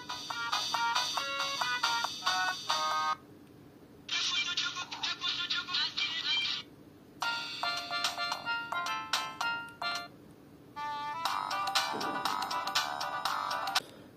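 A Siemens C72 mobile phone plays several built-in polyphonic ringtones in turn, bright electronic melodies from its small speaker, each broken off after a few seconds by short quiet gaps over a faint steady hum.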